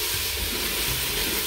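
Tomato added to a hot pan with chili pepper, producing a steady, broad, loud sizzle and hiss that continues without break, close by.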